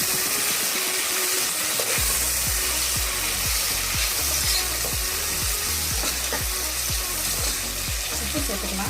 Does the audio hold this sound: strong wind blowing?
no